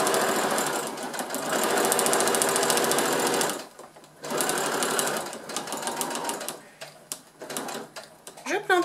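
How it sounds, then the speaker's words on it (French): A sewing machine stitches a long seam on a fabric pouch, running in steady, rapid bursts with brief pauses between them; a voice is heard talking alongside. "Donc, je couds tout le long."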